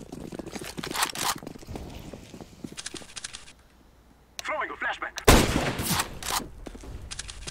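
Bursts of gunfire in the video game Counter-Strike: Global Offensive, including a loud close shot, with a quiet stretch between and game sounds around.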